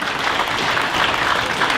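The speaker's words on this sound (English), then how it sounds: "one great round of applause for everybody who participated today" A crowd at a Kansas auctioneer championship gives a brief, steady burst of applause for the day's participants, dense clapping filling the room without a break.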